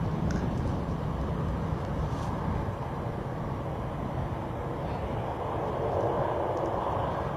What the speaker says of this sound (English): Is that a lofty Embraer there I'm looking at?